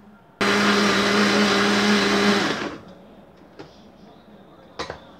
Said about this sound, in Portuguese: Agora a gente vai bater isso aqui bem batido, para depois pôr os outros ingredientes.